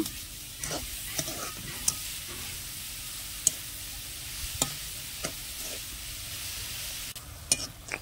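Carrots simmering in melting sugar in a pan for carrot payasam, giving a low, steady sizzle with occasional sharp clicks and scrapes of stirring, close and fairly quiet with no talk.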